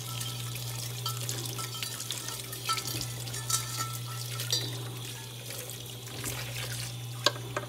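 Tap water runs steadily into an insulated mug at a kitchen sink, a continuous close splashing stream with a few small knocks, heard alone over a low steady hum.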